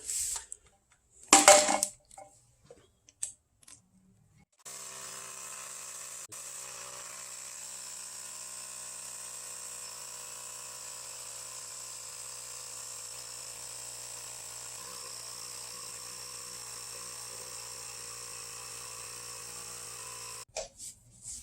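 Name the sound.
Ryobi power inflator pumping air into a tire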